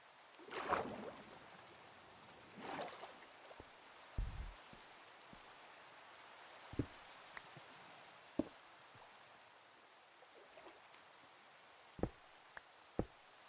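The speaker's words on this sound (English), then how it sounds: "Did I order some rain?" Soft, quiet rainfall in a video game, a faint steady patter punctuated by scattered louder drips and knocks on surfaces, with no speech.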